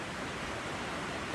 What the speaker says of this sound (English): it is raining out, so I apologize for the extra noise